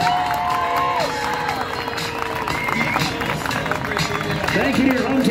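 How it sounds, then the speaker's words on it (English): A rodeo crowd at a county fair claps and cheers steadily throughout, a dense wash of applause with an announcer's voice and shouts over it. "I'd like you to give them a big old round of applause."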